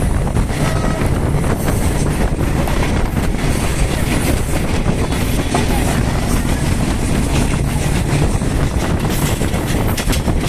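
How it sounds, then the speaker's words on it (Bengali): A train rumbles loudly and steadily close alongside, heard from the roof of another train near Tongi, a dense roar of wheels and wind buffeting that never lets up over the whole stretch. "ওই যে পাশ দিয়ে আরেকটা ট্রেন যাচ্ছে"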